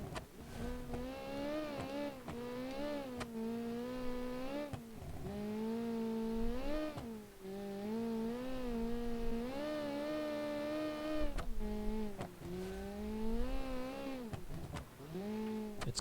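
Legion Songbird rally car engine in a classic rally racing game, revving with a sustained whine that climbs and falls through repeated gear changes, loud and steady with no talking.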